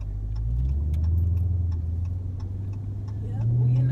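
Inside a moving car, a low steady engine and road rumble drones continuously, with faint ticking noises over it and no talk.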